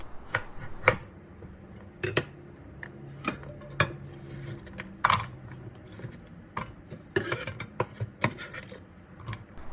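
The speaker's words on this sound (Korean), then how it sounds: "무 4분의 1개를 먹기 좋은 크기로 잘라줍니다" A kitchen knife slicing a quarter of a radish into bite-size pieces on a cutting board, a string of irregular sharp chops and scraping knocks, close and clear, with no talk.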